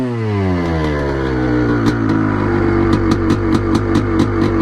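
A 1989 Honda CR500R dirt bike, freshly rebuilt, runs close by with a steady harmonic two-stroke drone that climbs in pitch early on and then settles, with rapid repeated popping bursts toward the end.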